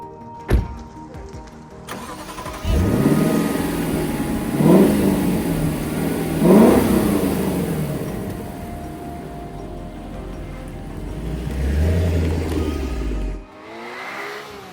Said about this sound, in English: Let's take out my newly acquired Lexus LC 500 for a short night cruise